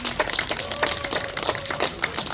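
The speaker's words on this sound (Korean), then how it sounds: "여러분들 박수 쳐주세요." Applause from a lecture audience at a barefoot-walking health talk, a dense patter of many hands clapping steadily throughout, fairly even in loudness with a faint tone running beneath.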